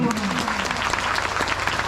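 An audience at a community speech on religion and society claps loudly and steadily the whole time, with a speaking voice heard over the dense applause.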